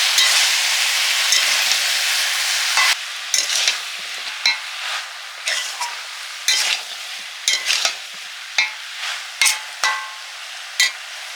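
Mixed home-garden vegetables sizzle in a pan as a spatula stirs them in a regular rhythm of scraping strokes over a steady frying hiss, loud and close with no talking.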